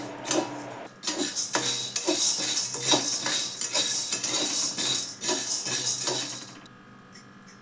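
Rice grains being dry roasted in a pan, a steady dry rattling and scraping as they are stirred, with repeated spoon-on-metal clinks in a regular rhythm, close and moderately loud, no voices, ending in a short quiet stretch.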